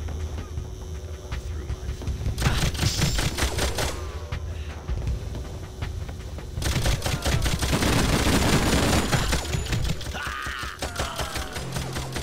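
Turret gunfire in the Xbox game Breakdown, rapid bursts of automatic fire hammering in repeated volleys with mechanical clanks between them, loud and close throughout.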